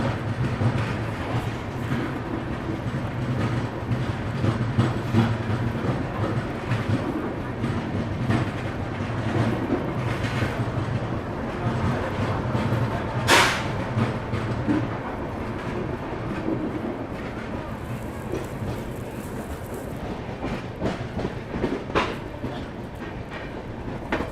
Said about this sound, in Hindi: जालंधर से ही अच्छा खासा एक्सेलरेशन यहाँ पे देखने को मिला है, जालंधर सिटी स्टेशन से निकलते निकलते।